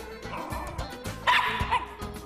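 A dog barks in short repeated yips and lets out a higher whimpering whine in the middle, close and loud, with indoor background noise.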